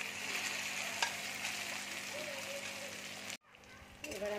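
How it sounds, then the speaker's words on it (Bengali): Soybean chunks go into hot oil and fry with a continuous loud sizzle and crackle, close up, before a brief cut to quiet and a softer, fainter sizzle returning. "তেল দেখো গরম হয়ে গেছে, এবার আমি সয়াবিনটা দিয়ে দিচ্ছি তেলে।"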